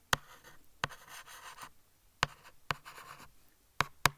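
A pen writes on paper while working through a GCSE chemistry past paper, producing short scratchy strokes separated by sharp taps and brief pauses, close and quiet, with no talking.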